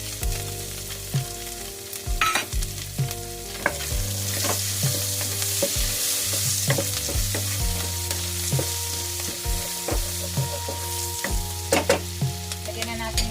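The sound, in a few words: onion frying in pan with vegetables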